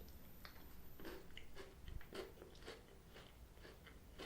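Close, crisp crunching of a Milka Oreo chocolate biscuit bar being bitten and chewed, a steady series of crackly bites with no talking.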